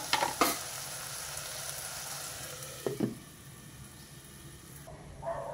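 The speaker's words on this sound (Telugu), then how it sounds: "ఒకసారి కూర కలుపుకుందాం" A broad bean and fenugreek leaf curry sizzles softly in a pan with oil, while a spoon scrapes and knocks against the pan a couple of times as it is stirred, close and without voices.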